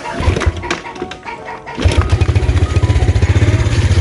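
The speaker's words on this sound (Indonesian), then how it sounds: "Nah ini akinya itu sudah habis lobet, jadi kita pakai starter kaki saja." Yamaha Jupiter Z1 motorcycle, a 2019 model with a dead battery, being kick-started: irregular mechanical scuffs and thumps, then the small engine catches and settles into a steady, close, rhythmic putter.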